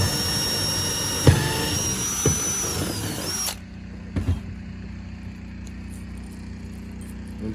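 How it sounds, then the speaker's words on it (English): A power drill bores holes for a Minn Kota trolling motor bracket, whining steadily at high pitch for about three seconds before cutting off, followed by a few faint knocks and quiet room noise. "And just repeat that process till you get all your holes drilled out"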